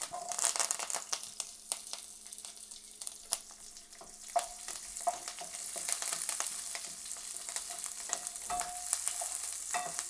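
Chopped curry leaves, garlic cloves and shallots fry in hot oil for an egg curry masala, a close, steady sizzle and crackle with occasional stirring scrapes and pops throughout.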